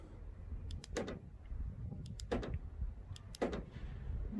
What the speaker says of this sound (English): Let's open the truck.